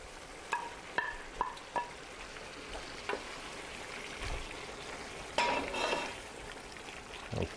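Peppers go into a tomato sauce with fresh basil cooking on a high flame, bringing a steady soft sizzle with scattered clinks and a louder burst of crackling near the end.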